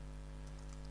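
Typing on a computer keyboard, a few faint, quick key taps in a short burst over a low steady hum, with no voices.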